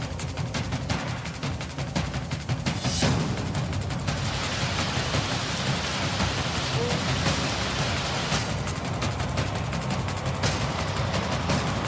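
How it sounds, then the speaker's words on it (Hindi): Heavy monsoon rain pouring down in Maharashtra, a loud, dense, unbroken hiss of downpour that stays steady from start to finish. "महाराष्ट्र में बारिश का कोहरा"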